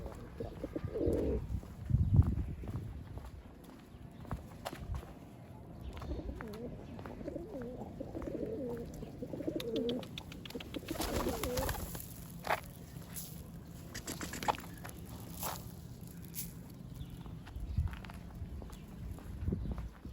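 Hungry Mardin smoky tumbler pigeons coo low and intermittently while feeding, with pecking and shuffling footsteps nearby and scattered flutters in a quiet space.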